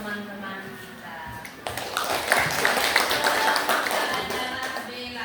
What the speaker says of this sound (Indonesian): Kita beri tepuk tangan untuk teman-teman kita.